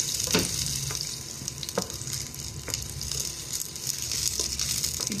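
Garlic sizzles in a hot pan for chicken adobo, a continuous close frying hiss broken by sharp clicks of a utensil stirring the pan.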